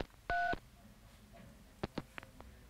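A telephone number is dialed, with one longer DTMF keypad tone followed by several short, quieter beeps in a quick irregular sequence, faint over a soft background.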